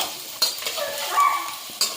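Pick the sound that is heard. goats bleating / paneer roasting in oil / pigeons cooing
paneer roasting in oil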